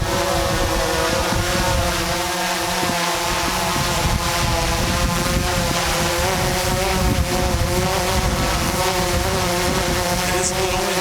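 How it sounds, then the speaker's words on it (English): Wind buffets a microphone outdoors during a DJI Mavic 2 drone flight, a continuous rough low rush under the steady high whine of the nearby hovering drone's propellers. "It's a little windy today."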